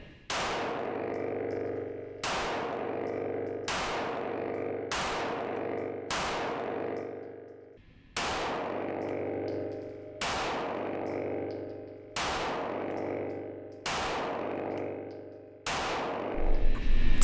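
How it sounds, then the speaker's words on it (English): An HK VP9 pistol fitted with a match upper kit fires about ten loud, sharp shots at a slow, even pace, each with a ringing echo and decay, with no talk between them. "So let's take some more shots, have some fun."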